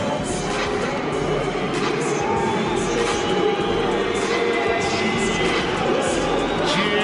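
A large boxing arena crowd cheers and roars continuously as a boxer walks in for a world title unification fight, with a commentator talking over the noise.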